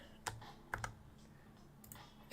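A computer keyboard is tapped in a few sharp, close clicks with quiet pauses between keystrokes, no voices present.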